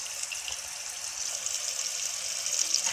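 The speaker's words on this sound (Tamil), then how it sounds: "புளி ஊற்றிக்கிறேன்" Tamarind water being poured into garlic curry in a home kitchen: a steady, close, hissing liquid gush that runs unbroken for a few seconds with no talking.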